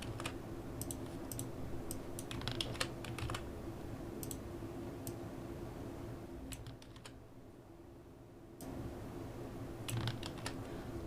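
Soft clicks of typing on a computer keyboard come in scattered short bursts over a steady low hum of room noise, with a quiet gap before typing resumes.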